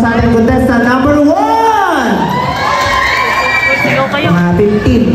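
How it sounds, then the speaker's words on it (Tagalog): An audience at a contestant game event erupts in loud, sustained shouting and cheering, with high excited children's voices rising and falling over the crowd noise close up. "Palakpakan may kasama sigawan para sa ating contestant number 1!"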